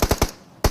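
Three quick, sharp gunshots crack in a tight burst in the mobile shooter BGMI, followed by a brief lull and then a single further shot, loud and close.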